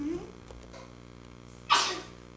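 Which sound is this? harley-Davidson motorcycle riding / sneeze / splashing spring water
sneeze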